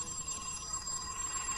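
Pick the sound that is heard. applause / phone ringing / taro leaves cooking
phone ringing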